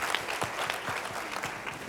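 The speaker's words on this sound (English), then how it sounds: "You can clap for that" A real estate seminar audience claps briefly, a dense patter of many hands with a few louder nearby claps standing out, steady for under two seconds and not covered by talking.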